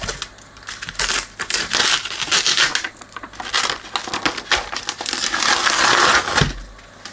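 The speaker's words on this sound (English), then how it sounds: "Start by peeling this off." Crinkly plastic film being peeled and pulled off a preamp lid in uneven bursts, close and fairly loud, with crackling and tearing textures.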